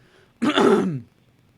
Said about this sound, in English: Just clearing his throat.